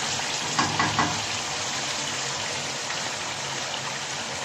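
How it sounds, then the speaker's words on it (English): Water is poured into a pot of cooking lamb trotters (mutton paye), giving a steady, close gushing splash that runs unbroken throughout, with no talk. "Now I put the water."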